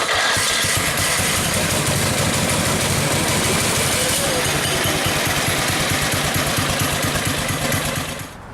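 An orange go-kart's small engine starts at the push of a button and settles into a loud, rapid, rattling idle close by, then cuts off abruptly at the end.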